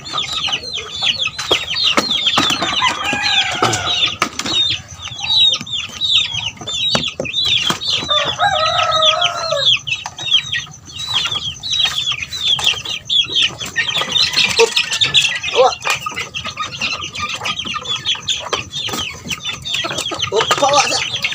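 A flock of chickens with a rooster keeps up busy, close clucking and squawking, with bursts of crowing-like calls rising over a continuous chatter of hens.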